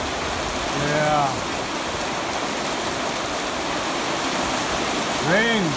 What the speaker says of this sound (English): Rain comes.